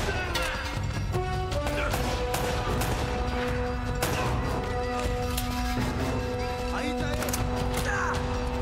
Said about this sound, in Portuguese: tiroteio não para, mano